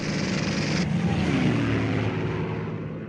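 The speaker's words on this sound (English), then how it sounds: "The Allies sent in squadrons of Typhoon aircraft equipped with machine guns," A Hawker Typhoon aircraft's propeller engine roars loud and close in a steady wartime flyby drone that shifts pitch partway through and then slowly fades.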